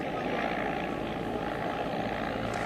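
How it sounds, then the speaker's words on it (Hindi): Indian Air Force Mi-17 helicopter landing at the Badrinath visit, a loud, constant rotor and engine roar filling the whole moment without pause. "ये जो 2 हेलीकॉप्टर जो अभी लैंड किए हैं, ये भारतीय वायुसेना के हेलीकॉप्टर थे MI-17"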